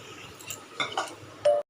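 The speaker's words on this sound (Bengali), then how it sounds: "আমি তো গ্লাস দিয়ে একটা গ্লাস দিয়ে এইভাবে ঠেসে নিচ্ছি" A glass presses and knocks against a bowl while boiled jackfruit seeds are mashed, giving a few soft clinks and taps spaced apart, ending in a brief louder clatter.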